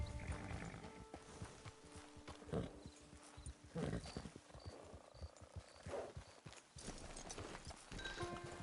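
Steady clip-clop of horse hooves in Red Dead Online trots along in an even rhythm, moderately loud, with ambient music-like tones behind and no talking.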